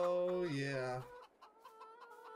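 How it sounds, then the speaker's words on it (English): Chickens cluck in the Farming Simulator 22 video game, a run of loud harmonic bird calls at first, then softer repeated clucks in a steady rhythm, with no talking. "Hello, my fellow chickens. How are you today?"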